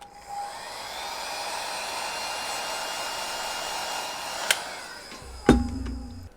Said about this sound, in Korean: 이런 히팅건으로 한번 말려줄게요